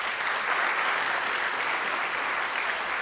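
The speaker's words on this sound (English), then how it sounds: "So give yourselves a round of applause." A festival crowd at a fireside chat with DC Young Fly breaks into sustained applause, a dense, even wash of many hands clapping throughout, loud and without talk.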